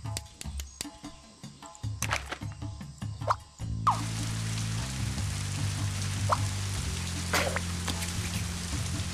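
Steady rain hiss in the video game Scribblenauts Unlimited, starting abruptly partway through after a stretch of game music and effects, then holding as a continuous wash under looping game music.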